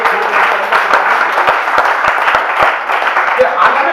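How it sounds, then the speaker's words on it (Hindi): Clapping from a poetry recital audience, a dense, steady patter of many hands sustained for several seconds at close range, with a voice faintly mixed in. "एक बार मिलकर सब ताली बजाएंगे"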